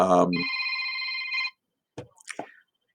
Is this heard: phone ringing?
yes